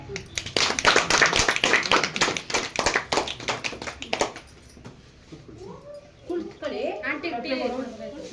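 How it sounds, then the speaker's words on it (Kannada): Applause at a railway station function: steady crowd clapping runs for about four seconds, then dies away into softer, scattered sounds and voices. "ಚಪ್ಪಾಳೆ."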